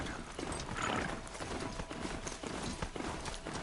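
Rhythmic clip-clop of horse hooves at a steady gallop in the video game Horizon Zero Dawn, fairly close, with a brief whinny-like tone early on and continuous movement throughout.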